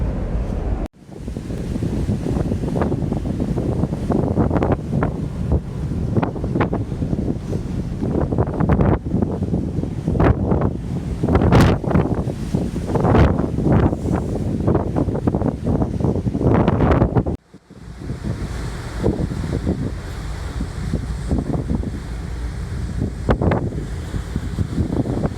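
Strong wind gusts roar continuously across the microphone in Hokkaido, loud and buffeting with surging peaks, then drop abruptly to a steadier, softer rush of air toward the end.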